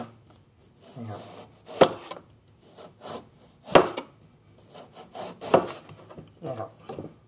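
A knife slices peeled ginger into thin pieces on a cutting board, giving a few sharp, close chopping knocks against the board at an uneven pace, with softer scraping between them.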